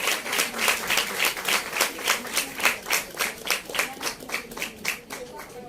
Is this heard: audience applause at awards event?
yes